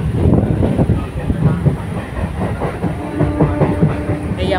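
A passenger train on a foggy morning pulls out and runs along the line between Dasnagar and Mecheda in West Bengal, its wheels clattering in a loud, steady rhythm heard from on board.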